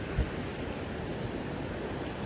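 Sea waves wash slowly in on a shore, a steady broadband surf roar with a faint thump near the start, heard alone without voices.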